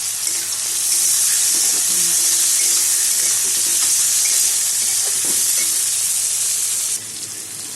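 Chopped tomatoes tipped into onions frying in a pan, a loud, steady sizzle that holds for several seconds with faint stirring clicks, then drops slightly near the end; no voices.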